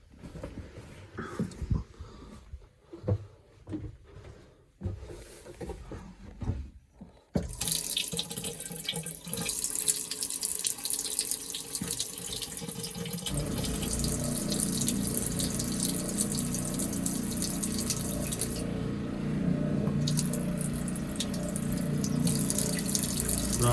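Water runs steadily from a boat's freshwater faucet during winterizing of the fresh water system, starting with sputtering spurts and then settling into a loud, continuous gush that carries on alone.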